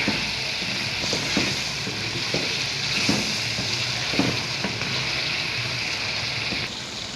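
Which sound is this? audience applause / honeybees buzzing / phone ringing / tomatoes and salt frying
tomatoes and salt frying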